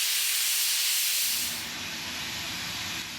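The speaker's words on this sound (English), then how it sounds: "a steam locomotive comes to life and starts to move its train" Steam locomotive on the Bala Lake Railway giving off a loud, close hiss of escaping steam that holds steady before easing slightly and continuing alone, with a low rumble joining beneath.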